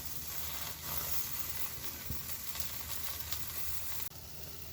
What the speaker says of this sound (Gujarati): આ ભૂટ્ટો શેકાવાનું ચાલુ થઈ ગયું છે એટલે એની છાલ ધીમે ધીમે નીકળતી જાય છે